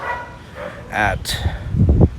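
A dog barks a few times at moderate distance, with voices and street noise around it, outside Bell Church in Baguio City, Philippines.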